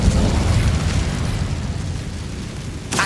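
The Incendio fire spell in the Hogwarts Legacy game erupts in a loud, rushing burst of flame that fades over a couple of seconds, followed by a brief second flare at the end.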